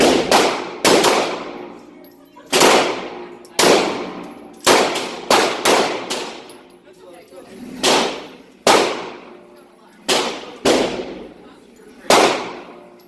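A Glock 19 Gen5 pistol tested for its trigger produces about a dozen sharp, loud metallic cracks at irregular intervals, each ringing briefly before fading.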